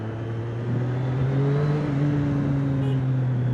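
Superbike engine, an R-model machine modified toward RS spec, pulling hard in second gear, a loud continuous near drone whose pitch climbs steadily as it accelerates, with no talk over it.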